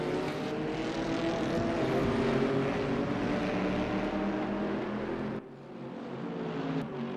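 A race car in the RaceRoom video game holds full throttle around Monza, a loud sustained engine drone that drops off abruptly near the end as the revs fall.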